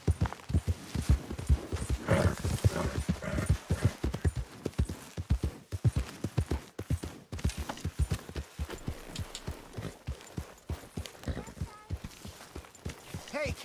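Horse hooves in Red Dead Redemption 2 clip-clopping in a steady walking rhythm, close and continuous, with occasional soft snorts and faint background speech.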